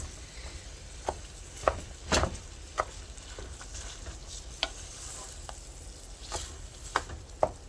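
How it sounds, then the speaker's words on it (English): Ground beef browning in a pan gives a quiet, continuous sizzle, punctuated by scattered clicks and scrapes of a utensil stirring and breaking up the meat. "And we're gonna cook that until the beef is browned."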